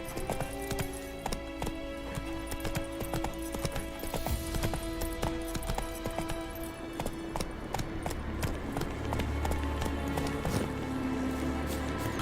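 Horse galloping in The Witcher 3: Wild Hunt next-gen update, rapid steady clip-clop hoofbeats carrying on throughout, with a brief whinny and game music and ambience underneath.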